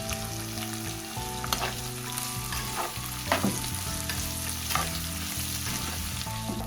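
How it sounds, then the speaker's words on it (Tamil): Green chilies and onions sautéing in a pan for an eggplant curry with chickpeas, steady close sizzle with repeated spoon stirs and scrapes, some tonal background sound underneath and no speech. "இது எல்லாத்தையும் இப்ப நல்லா பொன்னிறமா வதங்கணும்"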